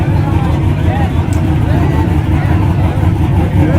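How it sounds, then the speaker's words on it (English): A loud, steady low engine rumble from a nearby truck, droning continuously with a faint voice underneath. "You hear that truck over there?"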